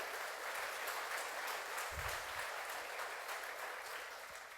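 Church congregation applauding during a sermon, a steady, dense wash of many hands clapping at a distance, fairly faint and continuous, fading slightly at the end.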